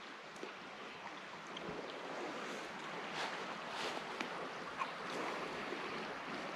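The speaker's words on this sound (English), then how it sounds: "It's a shallow creek, but later on, as you know, it's going to be much deeper." Shallow creek water flowing steadily outdoors in northern woods, a soft continuous broadband rush with slight wind, no voices.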